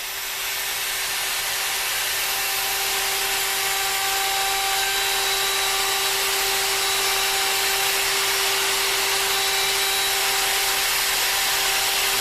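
A handheld router cuts wood along a template with a loud, continuous high-pitched whine held steady the whole time and no talking.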